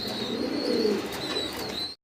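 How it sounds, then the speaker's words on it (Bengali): Pigeons at a pigeon farm give soft, low cooing calls, close by and continuous over a faint background for about two seconds. "আর অনেক চঞ্চল কবুতরগুলো"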